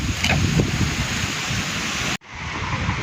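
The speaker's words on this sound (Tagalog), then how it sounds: "At super lakas ng hangin." Strong wind in Taiwan roars loudly against the microphone in a continuous rushing gust, briefly cutting out before resuming.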